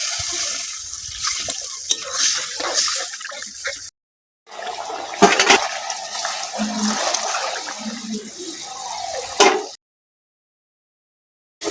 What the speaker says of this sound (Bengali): কষানো হয়ে গেছে, দিয়ে দেবো জল।